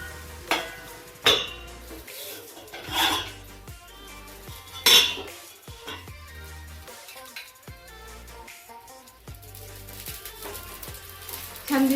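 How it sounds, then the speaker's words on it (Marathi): A lid set down on a cooking pan over mixed-flour dhirde, a few sharp metallic clanks and clinks against a quieter kitchen background, with sparse gaps between. "तर आता आपण त्याच्यावर झाकण ठेवून घेऊया."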